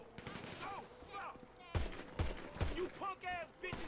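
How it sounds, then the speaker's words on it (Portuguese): Rapid gunshots crack in a quick cluster of three or four bursts in GTA 5 during a zombie fight at a house, while people talk excitedly over them. "Atira, atira, atira, Michael."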